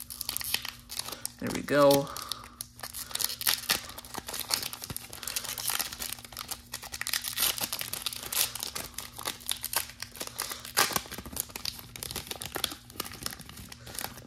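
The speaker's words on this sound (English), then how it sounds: "We gotta rip the packs, of course." A 2022 Topps Heritage High Number baseball card blaster pack is ripped open with a sharp foil tear, followed by ongoing close crinkling of wrappers while someone talks.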